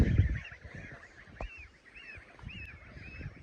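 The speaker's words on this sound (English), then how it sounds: "Somebody's yelling. Oh, that's the small goose." A small goose on a farm in Russia honks several times in short nasal calls, moderately near amid quiet outdoor background noise.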